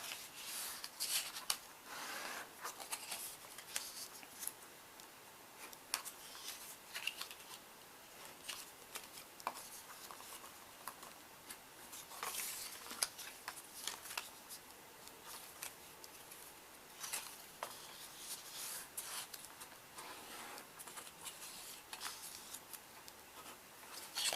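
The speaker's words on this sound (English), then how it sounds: "let's fold these lines" Paper being folded along scored lines at a craft table, giving faint, close crinkles and crisp creasing rubs in scattered bursts over a quiet background.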